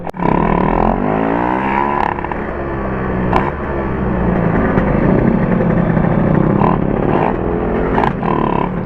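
A Suzuki Force 1 motorcycle accelerates hard through second and third gear, its loud, close engine note climbing in pitch, dropping briefly at each shift, then rising again.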